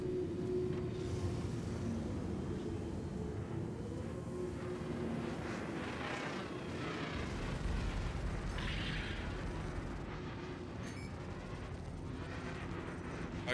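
Missiles are fired and explode during a Star Citizen ship dogfight, heard faintly as a rumbling engine drone. Muffled bursts and crackling blasts come up midway and fade into a continuous mechanical hum.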